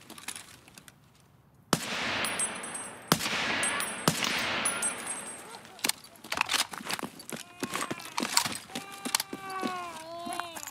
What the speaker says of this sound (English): that first shot didn't hit him in the head